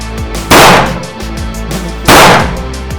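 Two loud, close pistol shots ring out at an indoor shooting range, one near the start and one about a second and a half later, each with a sharp crack and echoing tail.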